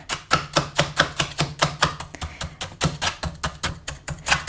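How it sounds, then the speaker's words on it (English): A fork scrapes across frozen gazpacho granita in a steady run of sharp, gritty strokes, about two or three per second, close and loud, with no talking. "to get that kind of granita texture, you just have to kind of use the fork."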